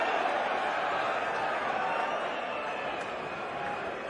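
A packed darts crowd roars and cheers in a steady, dense wall of noise, with no pauses or breaks.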